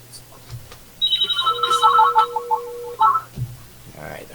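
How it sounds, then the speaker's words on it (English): Phone ringing on a call: an electronic ring tone sounds from about one to three seconds with warbling tones, over a faint hum and quiet background noise, with brief soft voice-like sounds afterward. "I heard it ring on his end, so we'll be patient."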